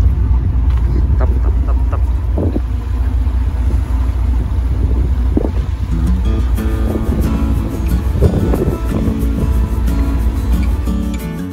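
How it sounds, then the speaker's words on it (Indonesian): The engine of the passenger ship KM Srikandi Line drones steadily and loudly while underway at sea between Bangka and Belitung, with continuous wind and water rush mixed in. "akhirnya kapal Sri Kandi Line melanjutkan perjalanannya kembali untuk berlabuh di Pelabuhan Tanjung Ru, Pulau Belitung"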